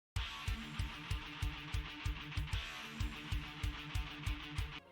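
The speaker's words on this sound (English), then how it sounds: "I have these sort of build up drums to go with it. So they have no snares, it's just kicks all the way down." Build-up drum pattern of steady kick drum hits with no snares, pounding evenly about twice per second under a bright, sustained guitar-driven backing in an anime-style opening track.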